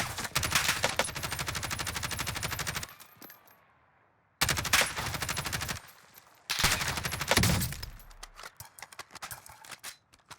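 Sustained automatic gunfire in the Warzone video game as rounds are pumped into a window, loud and rapid in three long bursts separated by brief pauses, no talking.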